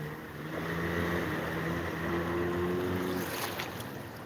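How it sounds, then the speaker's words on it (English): Hard-hulled boat with an outboard motor passing at sea off a Thai beach, a steady droning engine hum carried over wind and surf, fairly loud and continuous at mid distance. "It sounded like an outboard."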